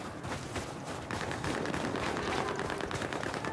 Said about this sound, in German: Ich höre nur die ganzen Schüsse